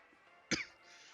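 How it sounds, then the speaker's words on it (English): A single short, sharp cough, fairly close, over a faint steady background hum. "I'm gonna be coughing for a bit randomly."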